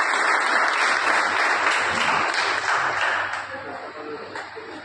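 Sustained applause from a gathered audience at a retirement farewell for a long-serving devotee, loud and dense throughout before thinning toward the end.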